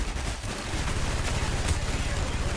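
Rapid automatic gunfire from the video game Call of Duty: Black Ops, a dense stream of bursts that starts after a brief lull and keeps rattling steadily at a moderate level.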